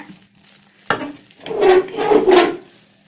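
Cooked rice for sakkarai pongal is stirred in a pot, making a sudden thud followed by a few close, soft, scraping and rubbing strokes over about two seconds.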